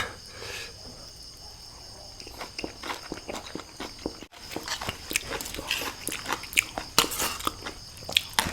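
Someone eating Thai laab tao, a spicy minced salad with algae and lots of herbs, chewing and crunching close to the mic in a steady run of small bites, with insects chirping outdoors in the background.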